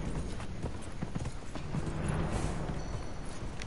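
A mount gallops in the video game Dragon Age Inquisition, its hooves beating a fast, even rhythm up close for several seconds against a soft background wash.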